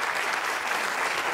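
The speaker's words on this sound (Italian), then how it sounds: "E un grande applauso Antonio." A brief burst of dense audience applause, loud and close, filling just over a second without any talk.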